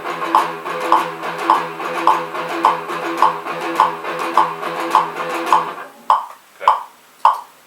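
Metal guitar chugging a gallop rhythm, tight palm-muted picking repeating evenly in a steady pulse, then thinning into a few sparser, separated hits at the end.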